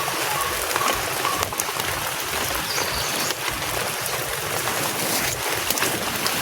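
Rain falls steadily outdoors near olive trees, a dense, even hiss of drops that stays loud and constant throughout with no voices.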